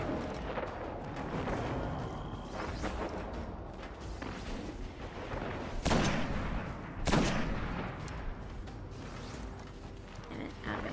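Gunfire in the Destiny video game, with a couple of sharp shots over a busy backdrop of in-game mechanical noise and effects, heard under a player's talk.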